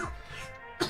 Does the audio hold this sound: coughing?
yes